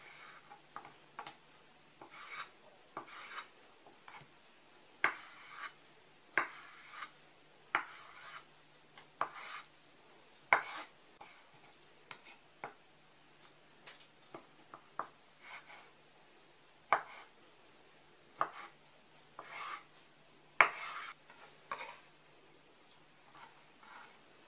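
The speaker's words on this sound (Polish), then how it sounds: "Pietruszkę i marchew pokroję w kostkę." Knife cutting carrot and parsley into small cubes on a board, a quiet irregular series of sharp chops spaced roughly a second apart, close up and with no talk.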